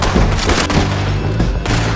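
A burst of gunfire in the Red Dead Redemption 2 western video game, with several loud shots cracking in quick succession amid a dense, noisy battle mix.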